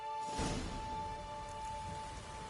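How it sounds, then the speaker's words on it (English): Steady rain falls in The Witcher 3, a constant hiss of drops with a soft swell near the start, close and even, with no talk. "It's raining."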